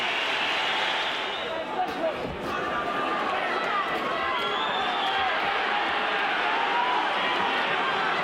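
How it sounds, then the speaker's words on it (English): A dense, steady roar of a large crowd cheering at a boxing match, loud and sustained throughout, with a commentator's voice faintly mixed in. "A terrific 9th round for Prince Naseem. Listen to the crowd."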